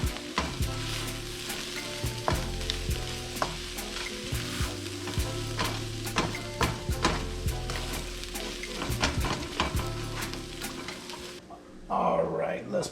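Chicken and broccoli stir fry simmering in a pan, a steady sizzle and crackle with frequent clicks of stirring and utensils against the pan, persistent and close, ending with a brief clatter.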